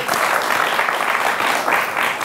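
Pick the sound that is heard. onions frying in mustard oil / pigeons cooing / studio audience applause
studio audience applause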